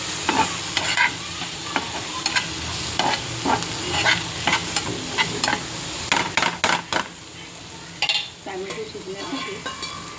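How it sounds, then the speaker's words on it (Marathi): Red chili powder being stir-fried with dried shrimp in a pan, a steady sizzle broken by repeated scraping stirs and clinks of a utensil against the pan, loud and close throughout. "आणि हे लाल तिखट चांगला परतून घ्यायचा"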